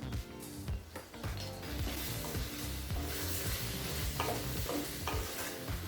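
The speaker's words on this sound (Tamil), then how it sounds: "எல்லாத்தையும் சேர்த்துட்டு 1 நிமிஷம் வரைக்கும் நல்லா வதக்கிக்கலாம்." Coriander powder and kuzhambu chilli powder being sautéed in a pan for mochai kottai kuzhambu, a steady sizzle with stirring scrapes throughout, close and fairly loud, no voices.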